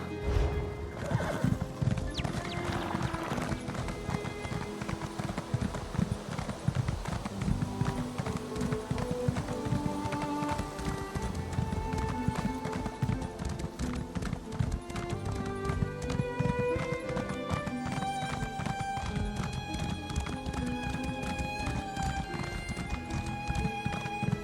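A horse in Elder Scrolls Online gallops with loud, rapid, continuous clip-clop hoofbeats and neighs clearly, while game music plays underneath throughout.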